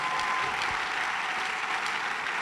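A church congregation breaks into dense, steady applause that fills the room, loud and continuous from start to finish, with a few voices mixed into the clapping.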